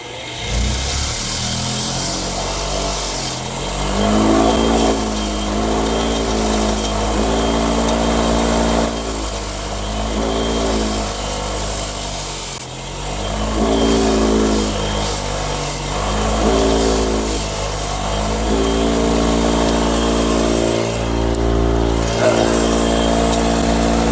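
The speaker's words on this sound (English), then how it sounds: "Run it on the wire wheel." Wire wheel grinding a homemade copper cable lug, a loud continuous motor whine with rough abrasive texture, rising and dipping in pitch as the lug is pressed on and eased off over about twenty-four seconds, with no talk.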